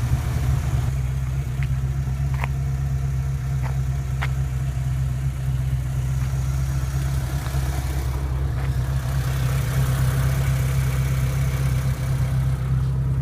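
A Renault Clio Mk1 with a 2-litre F4R engine idles with a steady low rumble and hum, close and constant, with a few faint clicks over it.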